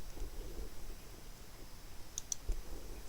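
Two quick, sharp computer mouse clicks close together, made with the Identify tool on a web map, stand out over a faint quiet room hum with no speech.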